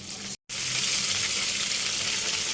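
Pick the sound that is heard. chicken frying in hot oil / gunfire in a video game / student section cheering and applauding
chicken frying in hot oil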